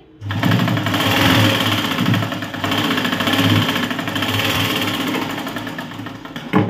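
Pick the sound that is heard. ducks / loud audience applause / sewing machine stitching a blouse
sewing machine stitching a blouse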